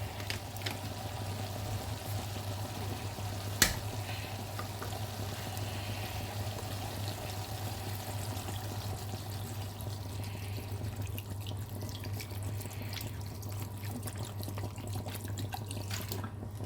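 Water runs steadily into a pot to half depth for a Mediterranean-style veal dish, a continuous close pour with a low hum underneath and one brief clink partway through.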